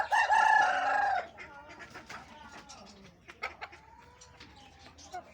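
An Aseel hen lets out a loud, drawn-out squawk for about a second, followed by quieter scattered clucks and soft chick peeps nearby while someone talks.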